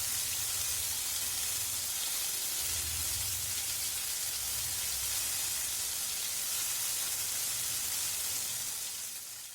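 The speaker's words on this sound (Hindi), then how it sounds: "और इस पेस्ट को 1 मिनट तक फ्राई कर लेंगे।" Ginger garlic paste fries in a pan, giving a steady, bright sizzle and hiss that holds evenly throughout and fades slightly at the end.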